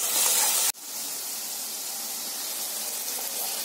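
Ginger garlic paste and tomatoes sautéing in oil make a steady, even sizzling hiss that holds close and moderately loud after a brief cut near the start, with no voices.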